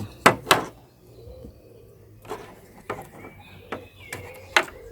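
Small screws being backed out of the license plate light on a BMW during exterior trim work, heard as close, sharp metallic clicks and ratcheting taps in scattered bursts over quiet background.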